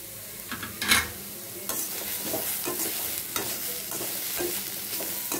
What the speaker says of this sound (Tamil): பாருங்கள், நல்லா வதங்கிடுச்சு.